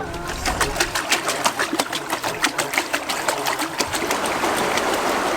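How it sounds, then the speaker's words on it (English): A river rushes under bridges in the countryside of Fukui, Japan. The water gives a loud, steady, close hiss with a faint pulsing churn running through it. "we're over a little bubbling brook"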